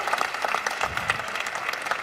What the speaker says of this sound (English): The Persians, they're clapping.